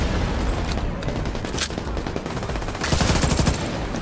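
Dense, continuous gunfire in The Division 2 as a sniper is taken down, rapid overlapping shots and bursts filling the whole stretch, loud and close, swelling near the end.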